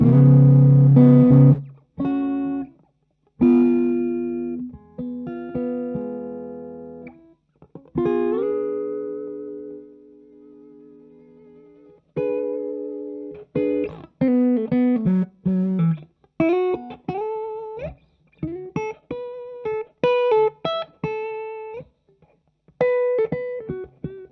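PRS DGT electric guitar played clean, first on the neck pickup and then the bridge pickup: strummed chords ring out, then brighter picked single notes and short melodic runs, close and alone with no talking.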